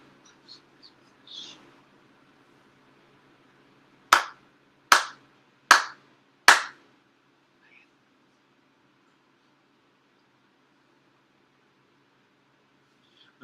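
Four ritual hand claps at a Shinto-style appreciation prayer service, sharp, evenly spaced and close in an otherwise hushed room, with a few soft rustles before them.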